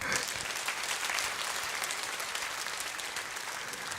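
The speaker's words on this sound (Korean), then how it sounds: "여러분, 뜨거운 박수 부탁합니다" A church congregation gives warm applause as youth group members enter during a Sunday service, a steady wash of many hands clapping for about four seconds without any speech.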